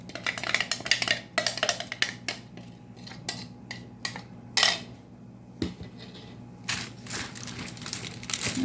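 A utensil scrapes and clinks against a bowl while ground spice is mixed for grilled fish. The irregular scraping strokes are close and fairly loud, separated by short quiet gaps, with no voice.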